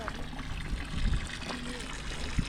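Hot spring water trickles and runs from a foot-washing tower in a Japanese mountain village, a steady close splashing flow with a few brief bumps and faint voices underneath.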